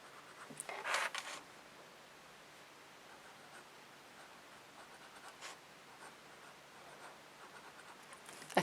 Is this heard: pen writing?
yes